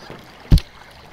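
A canoe paddle dips into the water once with a short splash and gurgle, close by, over a faint background of wind and water.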